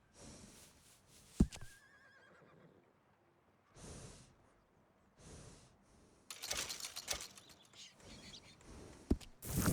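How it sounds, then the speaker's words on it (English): A horse in Red Dead Redemption 2 gives snorts and breathy whinnies in several short bursts separated by quiet gaps, fairly faint overall, ending in a louder, rougher stretch of snorting and neighing. "And a fine new horse."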